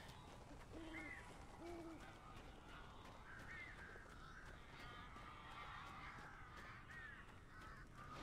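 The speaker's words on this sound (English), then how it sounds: "Oh man, that is a lot of crows." Crows caw a few times at moderate distance in the Alan Wake video game, with scattered harsh calls over a steady, murky ambient background and no talking.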